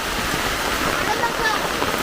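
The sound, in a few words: summer rain falling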